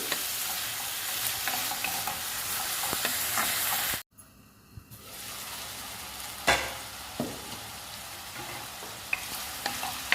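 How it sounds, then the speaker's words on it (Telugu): Vegetables for egg rice sizzle and fry in a pan with scraping stir strokes, the steady hiss broken by a brief near-silent gap midway, then resuming with a few sharp utensil clanks. "ఈ వెజిటబుల్స్ అన్నీ బాగా ఫ్రై చేసుకోవాలండి బాగా ఫ్రై అవ్వాలి"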